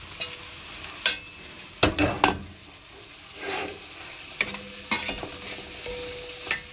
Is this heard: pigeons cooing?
no